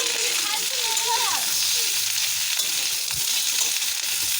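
Cauliflower and potato stir-fry with turmeric and cumin sizzles in a hot pan, a steady bright hiss with occasional scraping of a spatula, while someone talks faintly over the cooking.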